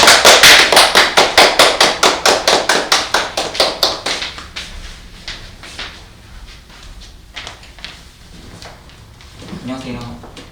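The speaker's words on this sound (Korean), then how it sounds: "박수 부탁드립니다" An audience at a literary talk show claps in a rapid, rhythmic burst of applause that is loud at first, then thins to scattered claps and fades, with a voice speaking near the end.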